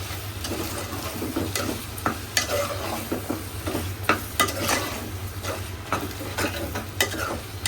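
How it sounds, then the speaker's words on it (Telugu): Kasuri methi stirred into gongura chicken pulao: a spoon scrapes through the pot in irregular close strokes over a steady low sizzle, with occasional sharper clicks of metal on the pan. "ఒకసారి కలిపేసుకుంటాం"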